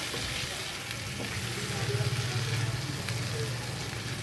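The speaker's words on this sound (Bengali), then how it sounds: "এই মাংসটা আমি ঢেলে দেবো। ঢেলে দিয়ে ভালো করে নাড়াচাড়া করে নেব।" Marinated chicken sizzling in a hot pan as it is stirred for a chicken curry, a continuous dense fry close up with a low rumbling hum underneath.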